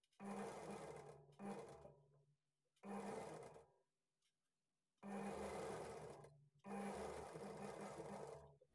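Sewing machine stitching a blouse lining and sleeve seams, whirring in five separate bursts of one to two seconds each, split by short silent gaps, close and clear with no talking.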